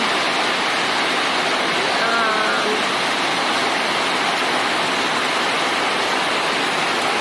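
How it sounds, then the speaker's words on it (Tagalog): Heavy rain pours down in a steady, dense roar that stays loud and unbroken throughout, with a faint voice barely showing beneath it. "Lakas ng ulan."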